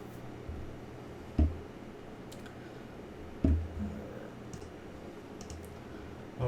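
A few sparse keyboard clicks from typing commands on a computer keyboard, faint and spaced seconds apart over a quiet room hiss.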